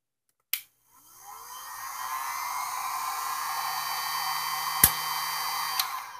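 One sharp click at the start, then a steady whooshing hum from a heated Maytag dryer with an overheat thermostat, with a further faint click and a small tick late in the clip.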